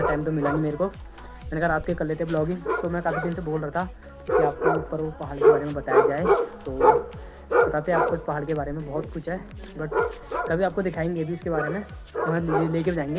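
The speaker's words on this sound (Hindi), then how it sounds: "कुत्ता भौंक रहा है" A dog barks at night in the hills of Uttarakhand, sharp yips and barks in the background recurring throughout, beneath someone talking close to the microphone.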